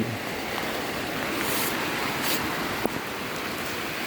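Heavy rain pours down at night near a roof and a dug drainage ditch, a dense steady hiss of downpour with a sharp brief knock partway through, no speech.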